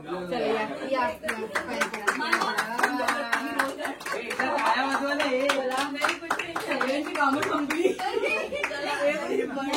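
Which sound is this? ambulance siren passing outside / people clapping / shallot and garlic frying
people clapping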